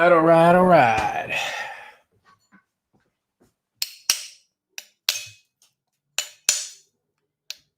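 Ice cubes drop into a drink glass in a string of sharp, bright clinks spaced irregularly over several seconds. A person talks briefly just before them.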